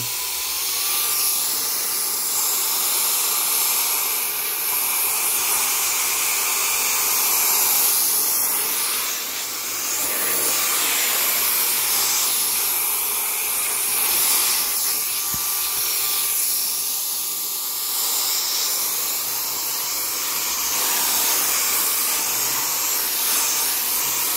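A Roedix R8 mini air duster blowing at its third speed setting, a loud, steady high-pitched rushing hiss of air with a faint whine, continuous and close throughout.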